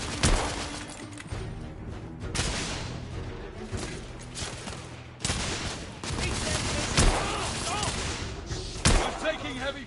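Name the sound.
heavy gunfire in video game The Order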